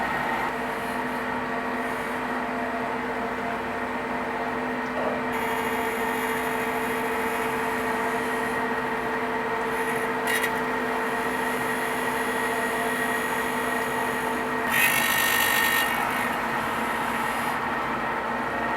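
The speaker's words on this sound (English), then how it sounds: "this knife is now ready for the finish grind" A grinding machine runs steadily while finish-grinding a steel moulding knife, producing a continuous even mechanical whine and hum with a brief brighter surge of grinding near the end.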